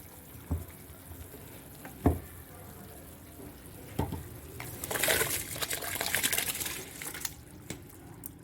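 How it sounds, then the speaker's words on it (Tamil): Masala gravy for Donne chicken biryani boils in a pot with a low, steady bubbling, broken by a few soft pops and a louder spell of burbling toward the middle. "பாருங்கள், குழம்பு நல்லா கொதிச்சிருச்சு."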